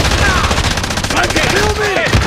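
Rapid automatic gunfire in Call of Duty: Modern Warfare, a dense continuous rattle of shots close and loud throughout, with game voices underneath.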